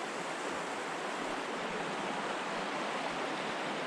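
Steady, broadband rushing water from the left fork of Huntington Creek fills the whole clip, a constant close flow with no pauses or voices.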